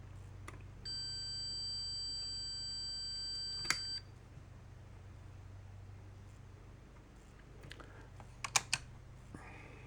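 A continuity tester on a multimeter gives one steady high beep lasting about three seconds while testing automotive fuse resistance, followed by quiet clicks and handling noises, with no talk.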